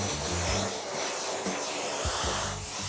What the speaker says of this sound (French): je prends Osiris et je lui passe un petit coup d'aspirateur